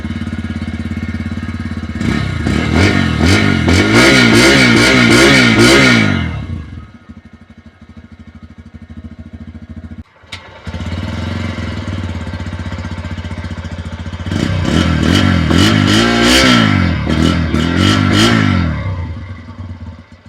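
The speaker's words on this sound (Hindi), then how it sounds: "अब गाइस चलिए एग्जॉस्ट सुनते हैं।" Bajaj Pulsar 125 and 150 motorcycles idle nearby with a steady, loud exhaust note, then each is revved in sharp repeated bursts, with a brief drop between the two bikes.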